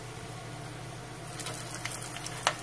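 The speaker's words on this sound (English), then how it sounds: "Over here in a pan, we're going to pan fry it." Soft, steady sizzling of walleye fillet frying in a pan of oil, with a few louder pops and crackles near the end.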